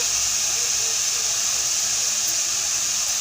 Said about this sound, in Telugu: ఇప్పుడు దీన్ని కలర్ వచ్చే వరకు వేయించుకుందాం.